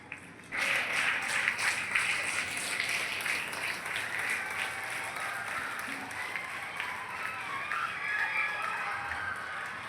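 A standing audience at a scholarship award ceremony in Mudigonda mandal breaks into sustained applause, a steady wash of clapping from many hands that starts abruptly and carries on evenly.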